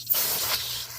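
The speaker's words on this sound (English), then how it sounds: "spray the actual cloth with the brake clean" Brake cleaner aerosol sprayed onto a folded cloth during a Ford Explorer 4.6 spark plug change and throttle body cleaning, heard as one steady, close hiss lasting about a second with no talk.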